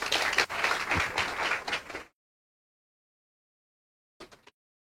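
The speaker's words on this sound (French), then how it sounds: "Je vous demande un tonnerre d'applaudissements." An audience at an inclusion-week talk claps to welcome a writer, a burst of applause for about two seconds that cuts off into silence, followed by a brief faint flutter of claps.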